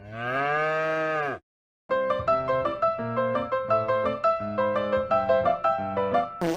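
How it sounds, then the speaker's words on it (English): A cow gives one long, loud moo lasting over a second, then falls silent before a plucked melodic tune takes over. "You'd get the same reaction if you put an actual cow up there"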